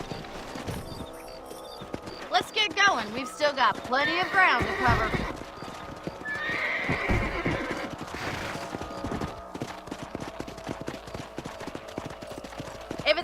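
Horses neigh and whinny amid clip-clop hoofbeats while riding in the video game Red Dead Redemption on Xbox 360, loud and close, with game music and someone speaking over the scene.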